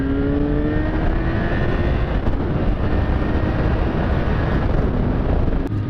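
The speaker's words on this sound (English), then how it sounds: "I need somewhere to give it to open this thing up" A 2004 Kawasaki ZX10R motorcycle engine drones steadily under heavy rushing wind noise as the bike runs at speed, its pitch easing slightly early on.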